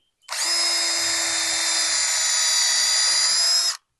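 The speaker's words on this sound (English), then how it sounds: "I drill as if I'm going into the very top edge of the stick." A power drill bores into the top edge of a wooden stick for a tall deck chair, one continuous high whine lasting several seconds, close and loud, starting and stopping abruptly.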